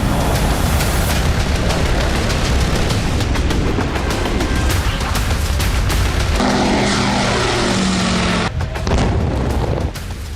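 An Iranian Shahed 129 drone flies with a loud, continuous propeller-engine drone, punctuated by repeated sharp bangs and thuds.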